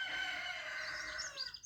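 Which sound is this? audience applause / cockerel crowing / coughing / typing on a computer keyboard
cockerel crowing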